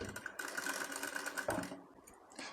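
Sewing machine stitching a baby outfit, a fast steady whirring run of needle strokes that stops briefly and restarts, close and clear with no talking.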